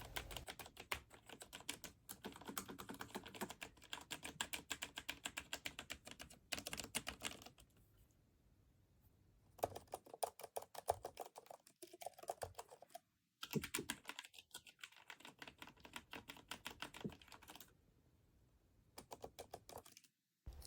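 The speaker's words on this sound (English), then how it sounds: "a lot like this Alienware keyboard that I have right here." Fast clattering keystrokes on an Alienware silent computer keyboard, in dense bursts broken by brief pauses, close and fairly quiet.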